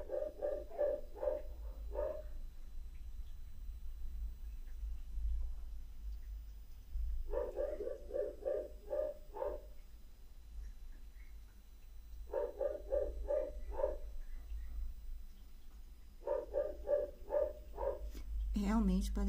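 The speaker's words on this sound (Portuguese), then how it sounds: "Vocês estão ouvindo o cachorro do lado externo" A dog barks outside in repeated bursts of several quick barks, with pauses between each group, heard at moderate distance over a steady low hum.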